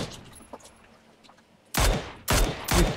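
Gunfire in PUBG (PlayerUnknown's Battlegrounds): after a quiet stretch, three loud bursts of rapid shots crack out in quick succession, close and harsh.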